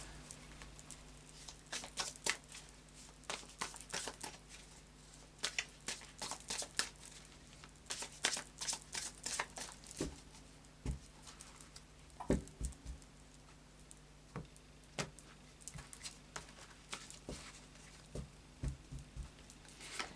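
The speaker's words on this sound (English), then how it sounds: "A final shuffle now of the Anarchy Tarot." A deck of tarot cards is shuffled by hand, giving soft, close, irregular papery riffles and flicks in quick bursts over about twenty seconds, with no talking.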